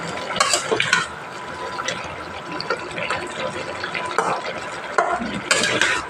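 Pumpkin greens, stems and taro stirred in a covered pot, with steady wet scraping and stirring and bursts of sizzle and clatter rising near the start and end.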